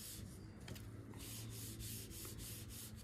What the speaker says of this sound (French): Et ils disent de faire des mouvements, de bien positionner de l'eau et de faire des mouvements rectilignes.